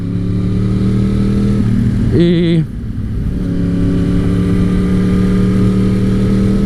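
Yamaha R1 sport motorcycle engine running loud and close, holding a steady throttle note, with a short sharp rev blip in the middle before settling back to a constant drone.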